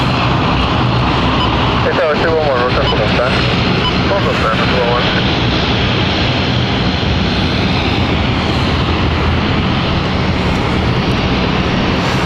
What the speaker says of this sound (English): So they've taxied the whole length of the runway.